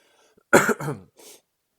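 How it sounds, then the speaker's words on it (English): A single close cough, a harsh burst with a raspy tail, followed by a softer throat-clearing sound. "and a cough."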